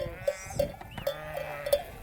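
Sheep bleat repeatedly nearby beside a chickpea field in Anatolia, a short rhythmic series of calls, with a faint bell-like clank in the background.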